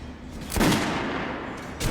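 Gunfire at a shooting range in Metro Last Light, with a loud booming shot near the middle and a sharper second report near the end over a steady noisy background, no talk.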